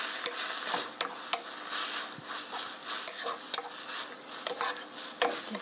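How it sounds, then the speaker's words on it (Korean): Spaghetti with shiitake mushrooms is stirred in a sizzling pan, a steady frying hiss broken by repeated clinks and scrapes of a utensil against the metal, close and continuous. "면을 섞어주세요."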